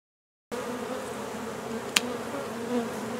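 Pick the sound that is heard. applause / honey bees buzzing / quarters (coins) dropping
honey bees buzzing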